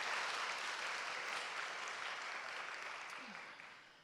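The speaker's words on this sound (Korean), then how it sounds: "박수로 하나님께 영광을 드립니다." A church congregation applauds during a Sunday afternoon worship service, a steady, dense wash of clapping that holds for about four seconds and slowly fades toward the end.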